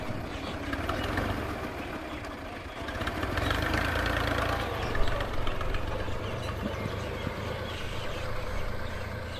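A Punjab village tractor, a 480 model hitched to a trolley, idles with a continuous low, steady engine rumble at moderate distance and a faint bump midway, with no talking.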